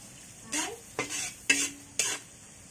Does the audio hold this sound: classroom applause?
no